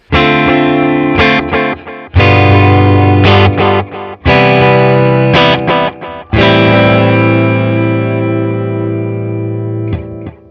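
Electric guitar played through a NUX Tape Echo pedal, loud and close, strummed chords and single notes each trailing into repeating echoes that decay over several seconds, with no talking.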